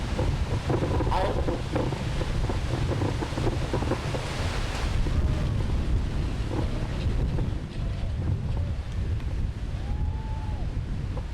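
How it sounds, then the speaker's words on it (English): Steady wind blowing hard into an outdoor microphone at a high school graduation ceremony, a continuous low buffeting rumble throughout with faint tonal sounds underneath. "This wind is really appropriate."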